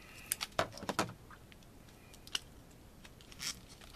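Pokemon Ancient Origins card packs being cut open with scissors, a quick cluster of sharp crinkly snips and foil rustles up close, then quieter scattered clicks and one last crinkle, with no talking.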